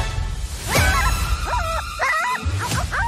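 A cartoon dog gives a few quick yips and barks in short bouncing bursts, bright and close, over a low rumbling background.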